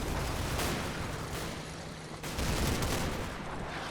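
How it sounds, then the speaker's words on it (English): Cannon fire and small-arms shots rumble through a Normandy battle in Combat Mission: Battle for Normandy, with scattered cracks and heavier booms over a constant loud battlefield din. "Looks like we're shooting our own cannon."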